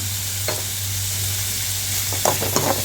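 Onions sauté with salt in a pan, giving a steady frying sizzle with a few scraping stirs of a utensil. The loudest strokes come near the end.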